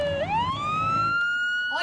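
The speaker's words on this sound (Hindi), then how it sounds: "पीछे से सायरन की आवाज आपको आ रही है" An emergency siren sounds in Syria after a missile attack, starting low and sweeping up into a loud, sustained wailing tone that holds steady in the open air.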